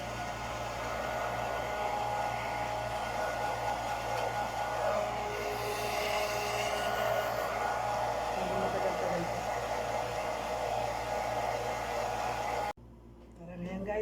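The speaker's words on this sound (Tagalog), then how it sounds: "Pati yung paa niya, nag-hair blower ko rin, basa eh." A hair dryer blows steadily on a pet's wet paw, giving a loud, continuous whooshing roar at close range for most of the stretch before it cuts off abruptly near the end.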